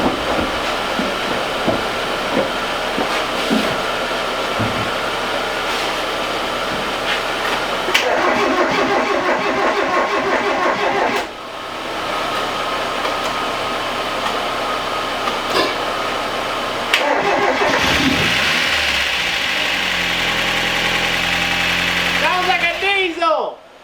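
Mazda Miata engine starting after a dead battery and running roughly and loudly with lifters lacking oil, a diesel-like clatter and drone close by, with people talking over it.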